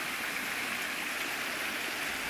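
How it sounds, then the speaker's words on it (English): Small waterfalls tumbling over big rocks, a steady broadband rush of flowing water, close and continuous with no other sounds. "There's some nice little waterfalls right there."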